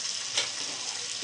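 Chicken curry meat with turmeric, salt and spices frying in a pan, a steady soft sizzle with a brief louder hiss partway through, close and quiet, with no talking.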